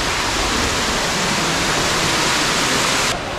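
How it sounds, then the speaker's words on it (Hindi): Steady, loud rushing of waterfalls at Ganesh Tekari, Nathdwara, Rajasthan, fills the air, a dense continuous roar that drops slightly at the very end. "आपको झरनों की बहुत सारी आवाज़ आ रही होगी शानदार वाली एकदम"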